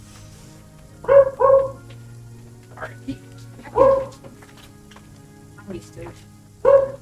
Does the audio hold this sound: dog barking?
yes